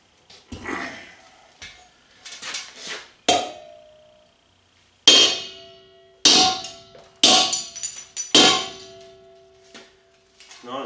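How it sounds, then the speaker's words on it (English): Several sharp metallic strikes of a hammer knocking the top off a metal tank, each ringing briefly, coming in irregular bursts with pauses between; loud and close. "people knocking the tops off with a hammer"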